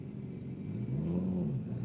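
A Toyota Chaser drives in at an All Japan Day car show, its engine rumbling steadily and swelling briefly into a rising rev midway before easing off, fairly close, with no talk.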